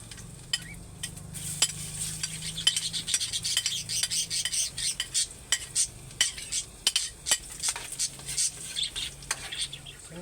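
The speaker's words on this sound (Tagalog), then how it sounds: "start na po tayo sa ating pagigisa. Unahin po natin ang ating bawang." Garlic sautés in a pan for a fish dish, with a soft continuous sizzle beneath repeated close scraping and clinking of a utensil stirring against the pan in an uneven rhythm, with no speech.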